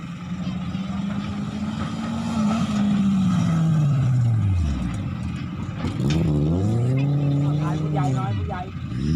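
Race cars on a practice track take turns running one at a time, each engine revving loudly and sweeping up and down in pitch as the car accelerates, slows and passes close by, with a second car following near the end.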